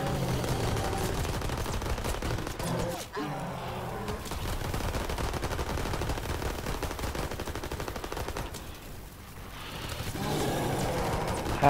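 Rapid gunfire from a video game boss fight plays as dense, continuous bursts for most of the stretch, dipping briefly twice before resuming at steady loudness.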